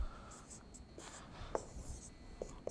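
Marker or chalk writing on a board during a quantum computing lecture, with short scratchy strokes and light taps coming in brief bursts, quiet and close, with faint background noise.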